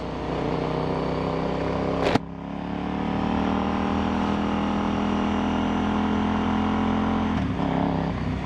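A KTM Super Duke motorcycle engine drones steadily and loudly at close range, with a sharp break near the start and a brief shift later as the throttle changes. No voices.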